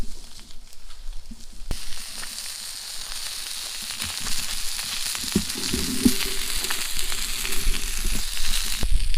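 Sausages seasoned with salt and pepper fry in a pan over a campsite cooker, giving a steady close sizzle and crackle that builds slightly louder toward the end, with no talking.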